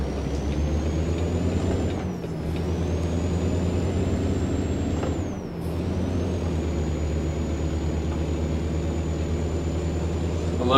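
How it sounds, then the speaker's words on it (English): A heavy truck engine in American Truck Simulator drones steadily with a loud, high cold air intake whistle that dips briefly twice as the revs change, under a deep continuous rumble, with no voices. "They redid the intake, cold air intake, so it gives it a nice loud whistling noise."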